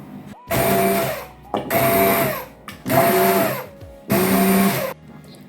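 An immersion blender whirs in four long bursts pureeing a cooked mixture, separated by brief pauses, loud and close, with no talking.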